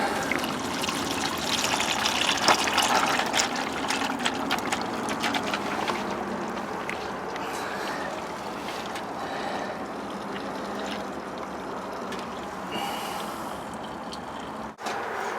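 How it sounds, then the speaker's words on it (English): Engine oil draining from the oil pan of a 2003 Ford F150 Lariat 4x4, a steady trickling pour that runs continuously and fairly loudly for the whole stretch, with no talk. "Okay, now with the oil draining"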